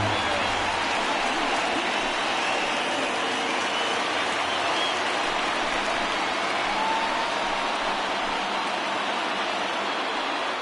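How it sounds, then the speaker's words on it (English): Home baseball crowd at a stadium in the bottom of the eighth, roaring after a home run: a steady, dense wash of cheering and applause that holds loud and even throughout, with a broadcaster's voice faintly underneath. "the home crowd has really come to life here in the bottom of the 8th"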